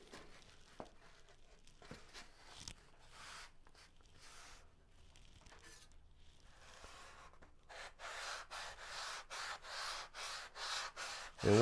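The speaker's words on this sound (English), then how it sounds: "once this is sanded, I'll never sand it again" Foam wing sheeting for a Carl Goldberg Ultimate 10-300 biplane is sanded by hand, a soft scratchy rubbing that is faint at first, then becomes louder, with rhythmic back-and-forth strokes in the last few seconds.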